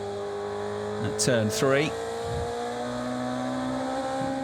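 René Rast's DTM race car laps the Lausitzring, a steady engine drone running under a commentator who talks throughout.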